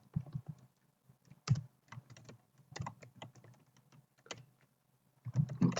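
Someone types on a computer keyboard in short, irregular bursts of soft clicks and taps, with brief pauses between bursts and a louder flurry at the end, close and quiet.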